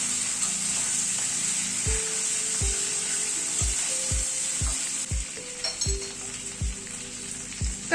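Potatoes and ginger paste frying in a pan while being stirred, a bright constant sizzle with regular low knocks and scrapes of a spoon roughly every second, close by.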